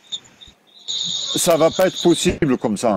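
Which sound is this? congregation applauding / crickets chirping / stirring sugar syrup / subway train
crickets chirping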